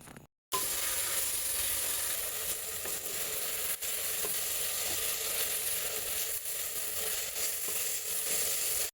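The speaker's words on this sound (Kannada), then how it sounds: "ಟೊಮೊಟೊನೂ ಕೂಡ ಮೆತ್ತಗಾಗೋವರೆಗೂ ಚೆನ್ನಾಗಿ ಫ್ರೈ ಮಾಡ್ಕೋಬೇಕು" Tomatoes frying in oil in a pan give a dense, steady sizzle that runs nearly unbroken after a brief silent start, close and even, with faint stirring.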